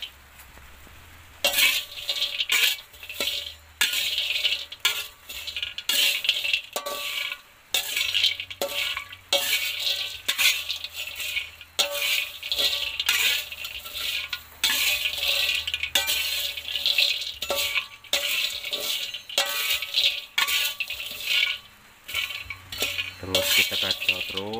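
A metal utensil scrapes and stirs repeatedly against a pan, with dry rattling and clinking of Arabica coffee beans being roasted, in an irregular rhythm, close up and continuous.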